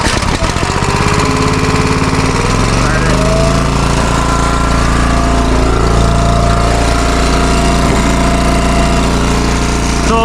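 An EASTONMADE log splitter's engine starts after a pull and runs loud and steady, rumbling and chugging close by, with its pitch settling as it idles.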